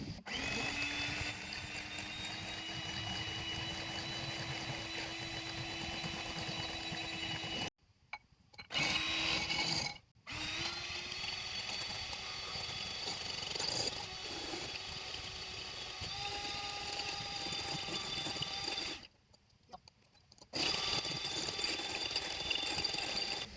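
Electric hand mixer with a small beater whirring steadily through a tiramisu egg mixture, a continuous motor whine that stops briefly twice, with short silent gaps.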